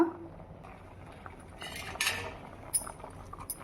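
Cooked rice being mixed into bisi bele bath in a metal pot, with soft clinks and scrapes of a spoon against the pot, a few sharper knocks near the end, fairly quiet with no talking.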